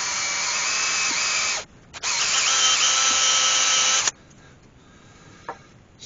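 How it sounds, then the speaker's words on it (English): A power drill bores holes in wood during a woodturning project, with two loud sustained whining bursts separated by a short pause, then quiet room tone and a small knock. "Then I'll just drill two holes in there, do exactly the same,"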